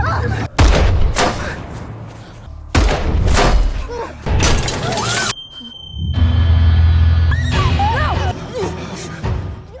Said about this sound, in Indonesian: tembakan itu melesatnya bertubi-tubi